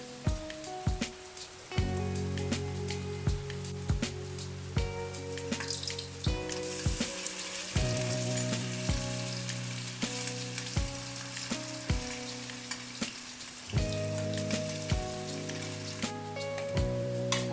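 Fritters frying in a pan on a rainy day, a constant crackling sizzle with sharp spattering pops, under a steady musical background.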